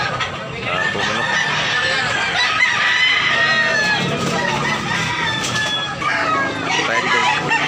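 Roosters crowing amid caged chickens for sale at a market in Tabunok, Talisay, Cebu, with clucking and a constant hubbub of people talking close by.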